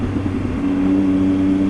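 A Triumph Tiger XR adventure motorcycle, set up for off-road use, runs on Gates Pass Rd. The engine is a steady, close droning hum throughout, with no voices.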